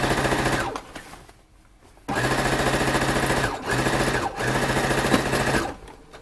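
Loud, close sewing machine stitching an elastic casing on a bodice, running in steady rapid bursts separated by brief pauses, with no speech over it.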